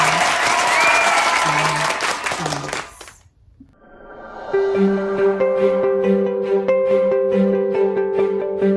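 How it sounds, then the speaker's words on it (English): Audience applause for participants at an Indian cultural celebration finale, a few seconds of lively crowd clapping that fades out, then gives way to sustained musical tones; a voice briefly speaks. "please join me to give all the participants a big round of applause"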